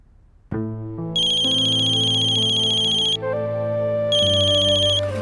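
A phone ringtone plays a loud, bright electronic melody of steady tones that shifts pitch a few times, ringing continuously on its own.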